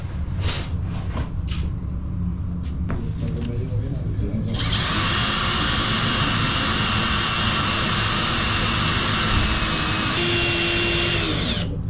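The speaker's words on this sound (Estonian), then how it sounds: "See on normaalne puurimine." A power drill whines steadily and loudly after a few seconds of clattering and shuffling, running continuously to the end, during a bus conversion build.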